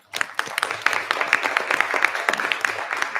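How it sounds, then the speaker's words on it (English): Audience applause at a North Merrick school gathering, a crowd clapping briskly after a brief quiet start, moderately loud and sustained. "give all of us, especially everyone here, a big round of applause for getting to this point"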